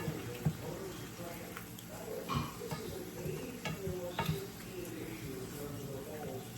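Shrimp sizzling in a pan over medium heat, a steady soft frying hiss with occasional stirring scrapes and clicks, fairly quiet and close.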